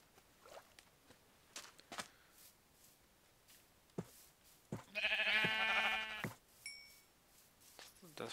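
A sheep bleats once in the Minecraft video game, a clear buzzy bleat lasting about a second midway, surrounded by soft footstep patter and quiet game sounds.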